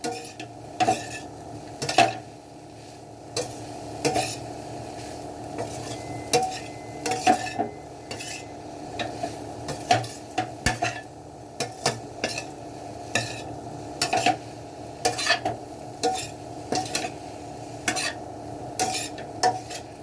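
Spoon stirring cauliflower sabzi with garam masala in a pan, repeated scraping and tapping strokes at an irregular pace over a faint steady sizzle, close and moderately loud, no speech.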